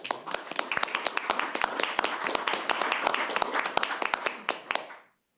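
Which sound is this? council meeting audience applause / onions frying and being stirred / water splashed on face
council meeting audience applause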